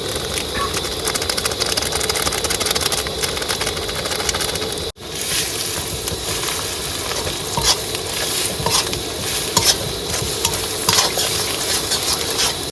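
Spice masala of salt, turmeric, green chilli, chilli powder, cumin and coriander powder frying and being stirred in a pan, a loud continuous close sizzle with steady scraping and a brief dropout near the middle.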